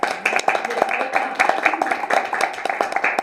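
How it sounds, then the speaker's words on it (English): Audience applause at a Delaware County real estate company gathering, a dense, steady patter of many hands clapping close by and filling the whole stretch. "So give yourselves a round of applause."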